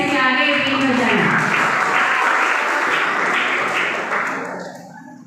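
A room of students claps together in loud, steady, sustained applause at a school Hindi Day event, tapering off toward the end.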